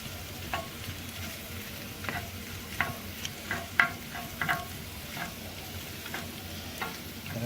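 Bacon-wrapped shrimp sizzling on a smoker, a soft steady frying hiss with scattered small crackles and pops, fairly faint and close.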